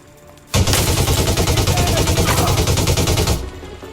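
AR-50 rifle fire in Elite Dangerous Odyssey rips out as a loud, rapid automatic burst of close shots lasting about three seconds, then cuts off sharply.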